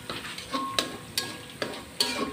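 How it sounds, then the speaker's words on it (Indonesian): Seasoning fried in a pan as the base for stir-fried water spinach, with steady crackling sizzle and scraping spatula stirs recurring every half second or so, close and moderately loud, no talking. "lanjut bumbu buat numis kangkungnya ini saya goreng-goreng"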